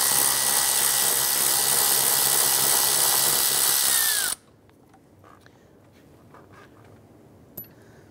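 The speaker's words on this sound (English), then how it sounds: "We're going to loosen and remove this lower bolt right here." A ratchet or power driver with a 10 mm socket and extension spins a lower mirror bolt loose on a 2010-2016 Cadillac SRX, a loud close whir for about four seconds that cuts off abruptly, then faint handling clicks.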